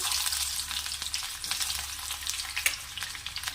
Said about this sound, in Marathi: कांदा ॲड करते